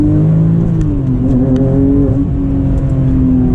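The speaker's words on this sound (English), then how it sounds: "Let's see if we could do one acceleration." Porsche 996 GT2 accelerating hard, its engine note climbing steadily through the revs, loud and continuous from start to finish with no talk over it.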